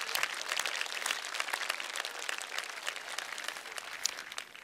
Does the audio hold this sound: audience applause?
yes